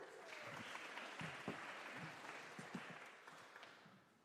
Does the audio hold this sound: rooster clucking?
no